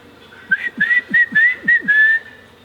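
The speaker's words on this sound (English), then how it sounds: "My family whistle sounds something like this." A man whistles his family whistle, a short run of about six clear, bright rising notes delivered close and alone.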